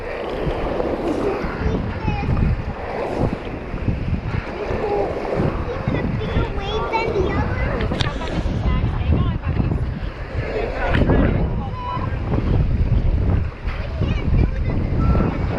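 A paddled raft pushing through splashing, rushing whitewater on the Clark Fork River, with continuous roaring water and wind buffeting the microphone, and voices calling out over it.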